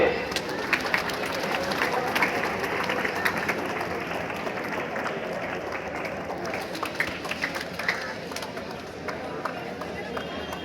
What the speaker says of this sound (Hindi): तालियां तो बजाइए।